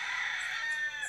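Roosters crowing at dawn in Guadeloupe, a sustained, fairly close crow holding steady throughout with no talk over it.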